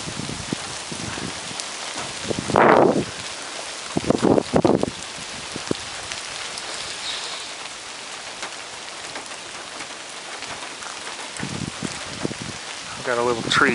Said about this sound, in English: We're experiencing a bit of a downpour.